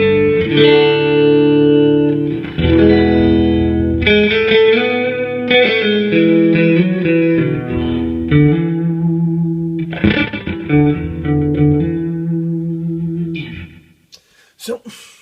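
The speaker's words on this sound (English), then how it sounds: "So you can hear a little bit of a chorusing sort of effect." Electric guitar run through a Boss PS-3 pitch shifter set to mode 5, giving a shimmering chorus-like doubling as sustained chords and phrases ring out, loud and close, then fade to quiet strums.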